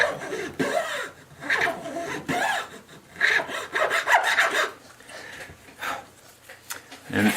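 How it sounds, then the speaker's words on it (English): A fine-toothed razor saw cuts the binding kerf in a custom guitar body with quick back-and-forth strokes, a close, crisp rasp in steady rhythm against the wood. "You can see there it cuts it just as smooth as butter."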